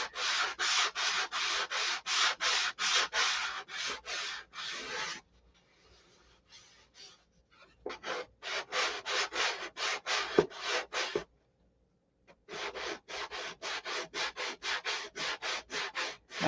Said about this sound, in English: Ooh, sand her down and prime her up.